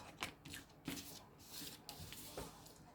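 Tarot cards shuffled by hand in a few quick riffling bursts, soft papery flutters and slaps that are close but quiet, with faint room noise between them.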